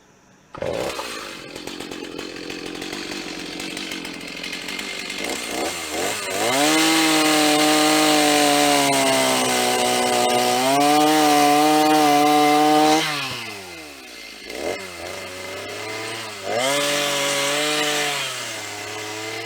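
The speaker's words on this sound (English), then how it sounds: "Hard to get a perfectly square cut with a chainsaw" An old chainsaw with a new chain revs and bites through wooden porch rafter posts, engine pitch rising and sagging under load as it cuts, idling between passes, loud and close.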